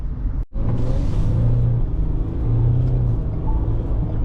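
A Ford Ranger V6 pickup driving over a rough, badly paved street: a loud, continuous low rumble of tyres and body, with a brief dip in sound early on and no speech.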